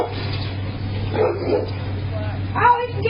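A big dog barks and yips in a few short bursts, close by, while people talk over it excitedly.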